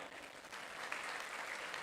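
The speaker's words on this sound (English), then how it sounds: "I think you should applaud yourself one more time." Graduating students at a campus graduation ceremony applaud themselves, steady hall-wide clapping that swells slightly midway and carries on through the whole stretch without speech.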